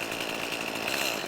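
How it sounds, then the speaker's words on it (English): A chainsaw runs at a steady, high-pitched buzzing whine with a faint motor rattle underneath, heard alone at moderate distance for just over a second with no one talking. "Now, this is a chainsaw, okay? And let's see if we can get old girl to go."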